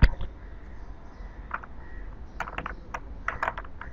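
Computer keyboard keys tapped in short irregular clusters during a DNS troubleshooting session, ending with a sharper press of the Enter key, close and fairly quiet over a low background hum.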